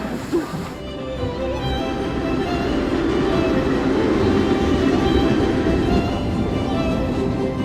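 A historic steam train in the Douro region of Portugal rumbles and clatters along steadily at close range, its rolling noise continuous and loud throughout.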